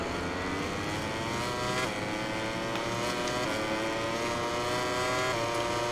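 Motorcycle engine in the MotoGP 21 racing game revving hard and climbing through several upshifts, the pitch dropping briefly at each gear change, loud and continuous with no talk.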